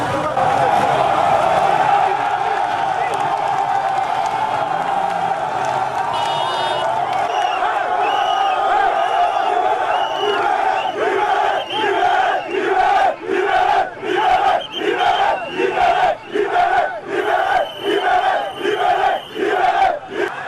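A crowd of protesters marching in Cameroon shouts and chants loudly, at first in a continuous roar and then in rhythmic bursts, with many voices close by.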